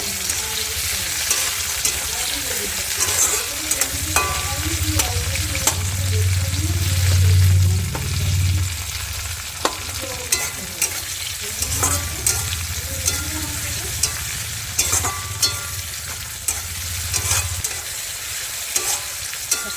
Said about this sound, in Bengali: টমেটো কুচি দিয়ে ভালো করে নাড়া দিয়ে নেবো সাথে টমেটো সবটা হালকা একটু ভেজে নেব